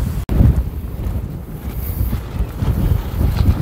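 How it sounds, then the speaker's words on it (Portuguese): Strong, rising wind at the Mirante da Serrinha hilltop lookout square, a continuous low rushing roar that swells in gusts and grows louder toward the end, pounding the microphone, with no voices. "O vento tá cada vez mais forte."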